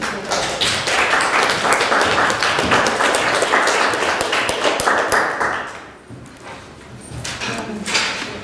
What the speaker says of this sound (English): That was a nice clap.